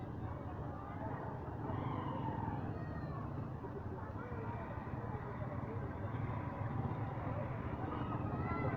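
Motorized tricycles pass near a memorial park at night, a continuous mid-distance engine drone and road noise that rises and falls slightly, with people talking nearby.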